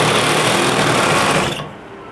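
A sewing machine stitches a sofa cover fabric panel in a fast, continuous close-up whir, stopping abruptly near the end and leaving only faint room noise.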